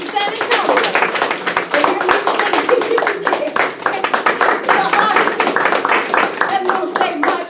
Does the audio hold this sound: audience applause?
yes